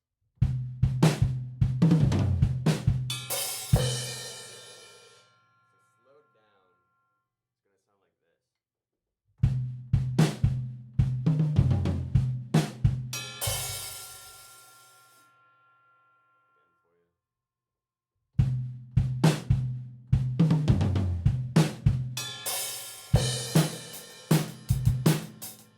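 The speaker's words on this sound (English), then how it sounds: "There's a little tom fill, and then the bell and the hat." Drum kit groove from a song part, played in three loud bursts with a quick tom fill and then bell and hi-hat hits, each burst ringing out into silence before the next.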